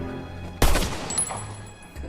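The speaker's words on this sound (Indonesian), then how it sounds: "datanglah Hobbs menembaknya hingga Jeff pun meninggal dunia." Gunfire in a prison-break action film scene: one loud close shot bursts out, followed by a ringing, decaying tail and faint high metallic tones, with no talking.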